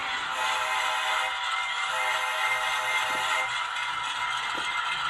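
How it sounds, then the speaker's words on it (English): Model railroad locomotives run on a layout, giving a steady close mechanical hum and rattle with a bright sustained tone on top, continuous and fairly loud, with no talk. "These locomotives are they sound great."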